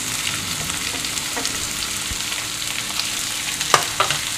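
Finely chopped onions frying in a pan with crushed ginger and green chillies, a steady close sizzle with a couple of brief stirring clinks near the end.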